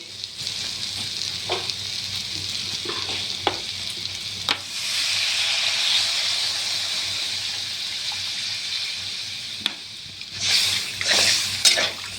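Pointed gourd frying in a pan for a vegetarian dalna gives a steady close sizzle that swells loudly as water goes in, with a few sharp stirring clicks and a burst of hissing near the end.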